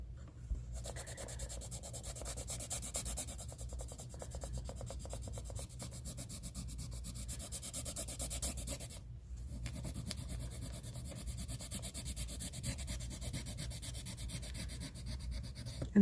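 A coloring pencil being turned in a T-Gall hand sharpener, a continuous fine scraping and rubbing with quick rhythmic strokes, close and fairly quiet, with one brief pause near the middle before the grinding resumes.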